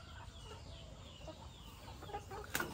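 A flock of 150 young laying hens clucks on their first day of feeding. The murmur is dense and continuous, with a slightly louder burst near the end.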